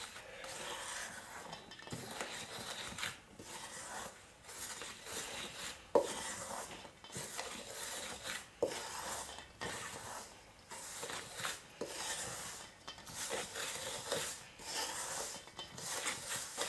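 Cheesecake batter stirred with a wooden spoon in a bowl, a repeated close rubbing and scraping in rhythmic strokes, moderately loud and alone with no talk.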